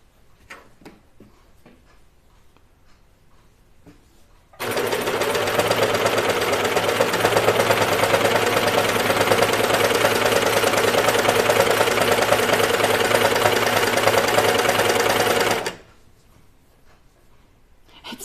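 Sewing machine stitching through sweatshirt fabric for a Grainline Studio Linden sweatshirt, a steady loud mechanical whir running unbroken for about eleven seconds, starting and stopping abruptly between quieter stretches of room noise.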